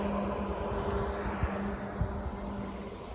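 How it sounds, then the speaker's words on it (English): Steady low road traffic rumble with a couple of brief passing thumps, a continuous broadband hum from vehicles nearby, beside a river on Kyushu, Japan. "Sorry about the noise from the road."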